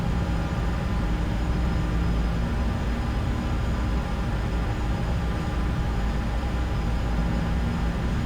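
A CRJ regional jet taxis slowly along the ground, making a loud, constant engine roar and broadband hiss from inside the cabin, with no talking over it.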